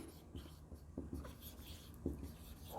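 Pen or marker strokes labelling a diagram of the digestive system, a few soft, quick scratchy taps and scrapes close by, faint and irregular over quiet room tone.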